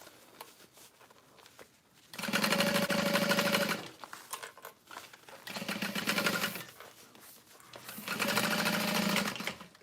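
A sewing machine stitches a seam on a tote bag in three steady whirring runs of a couple of seconds each, close and loud, separated by short quiet pauses.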